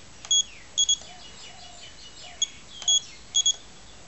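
A Sanwa MT4 radio transmitter timer gives several sharp, high electronic beeps in short pairs and singles, fairly loud and close, with quiet gaps between them.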